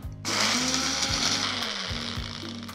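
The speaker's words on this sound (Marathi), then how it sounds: "आता आपण भाजलेले मसाले मिक्सर मध्ये काढून घेतलेत. आता आपण ते बारीक वाटून घेऊयात." A kitchen mixer grinder whirs loudly and continuously as it grinds roasted dry spice masala, the motor pitch shifting a few times as the load churns, close up with no talking.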